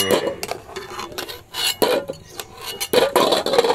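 Boiled desi chicken eggs lifted out of a cooking pot with a metal utensil, giving repeated close scraping and clinking knocks of metal against the pot in uneven bursts, with no talk.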